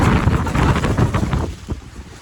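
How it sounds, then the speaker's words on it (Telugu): Strong wind gusting on the fourth hill of the Vellingiri trek near Coimbatore, loud buffeting roar against the microphone that eases off toward the end. "గాలి, వాన, తుఫాను."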